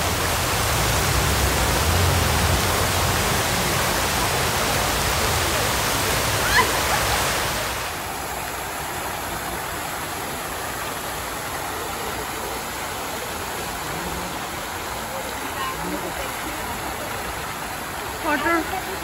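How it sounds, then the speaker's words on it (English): Water from a fountain in Milan, Italy splashing in a steady broadband rush, louder at first and then softer and more distant, with faint city background. "Water."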